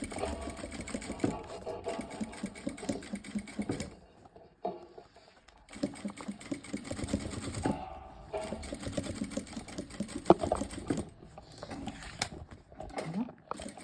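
Sewing machine running in steady, rapid bursts while stitching the front of a boho-style clutch bag, with a few brief pauses and light handling noises between runs.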